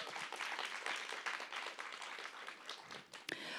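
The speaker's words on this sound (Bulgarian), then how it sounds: "Поздравления, аплодисменти." An audience at a talk event applauds steadily, a dense wash of many hands clapping together at moderate distance that dips briefly near the end and then picks up again.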